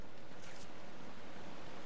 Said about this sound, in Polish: A, musi być wodospad.